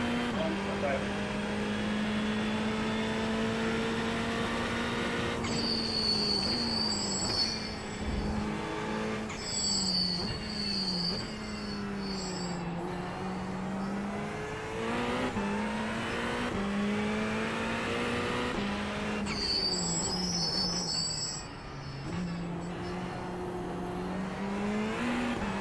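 Race car engines roaring in the iRacing sim game, upshifting and downshifting with rising and falling revs, tire squeals breaking through now and then, and voices talking throughout.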